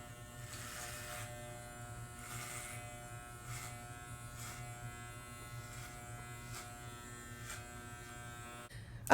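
Electric hair clipper buzzing steadily over a comb during a men's undercut haircut, a continuous close hum with faint pulses as it moves, running alone for about nine seconds before a sharp noise at the end.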